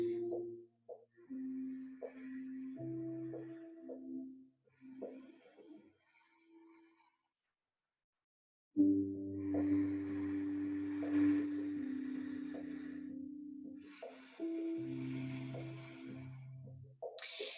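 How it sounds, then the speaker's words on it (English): Slow rhythmic ujjayi breaths drawn through a constricted throat, a soft ocean-like hissing rush on each inhale and exhale, close and alone, with a pause midway. "we're kind of constricting the throat and making this ocean sound"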